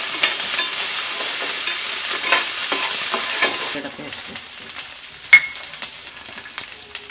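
Green chilies and curry leaves hit hot oil in a pan for Telugu amla pulihora, giving a loud steady sizzle that softens partway through, with spoon scrapes and stirring clicks.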